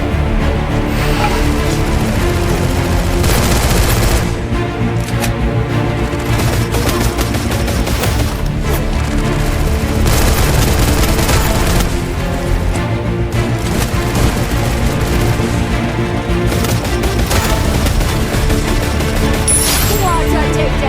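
Free Fire video game gunfire crackles almost nonstop in loud, dense bursts over a full battle soundscape, with someone speaking underneath.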